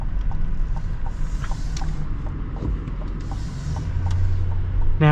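A 2023 GMC Yukon XL full-size SUV accelerates from inside the cabin, its engine a steady low drone that swells slightly toward the end beneath road rumble and faint creaks.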